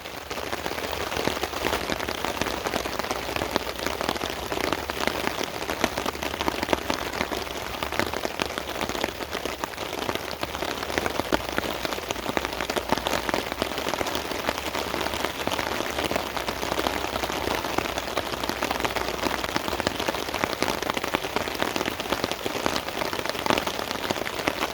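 Heavy downpour drums steadily and densely on a tarp overhead, a continuous loud hiss of rain with no break or talk.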